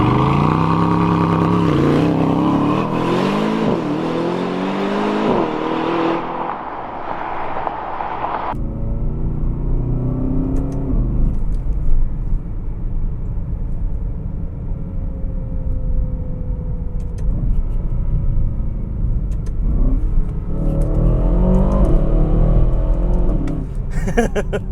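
An Aston Martin DBX 707 SUV on a test drive, its engine revving hard with rising and falling pitch sweeps, then settling into a steady low cruising drone with road rumble, close and loud throughout.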